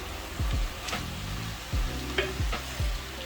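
A salmon wrap filling gets mixed in a bowl, with a series of soft thumping stirs and squelches and a few light scraping clicks over a low background hum.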